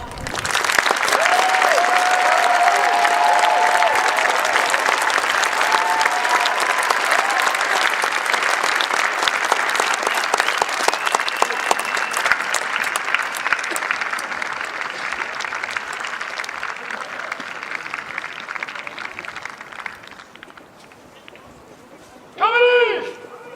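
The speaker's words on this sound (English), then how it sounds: "please join us in a warm round of applause for the officers and drill instructors of Company H" A large crowd at a Marine Corps recruit graduation at MCRD San Diego applauds the officers and drill instructors of Company H with dense, sustained clapping for about twenty seconds. The applause thins toward the end, followed by a brief burst of cheering.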